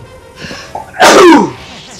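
A single loud human sneeze, a short inhale followed by a sharp explosive burst, with nobody talking.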